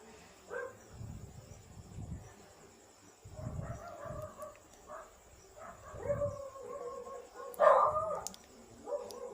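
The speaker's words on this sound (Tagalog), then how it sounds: "Pasensya na sa aso. Talagang maingay." A dog barking and howling in several short bursts, moderately near, with some rooster-like crowing in the background.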